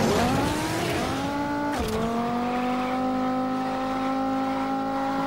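An orange race car in the Asphalt 9 racing game holds a high, steady engine whine as it accelerates. A sharp whoosh or impact cuts in partway through, then the engine settles back to a loud, continuous drone.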